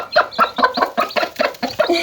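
A hen in a farmyard with newly hatched chicks gives a run of rapid, evenly spaced clucks, about eight close, loud pulses with no talk.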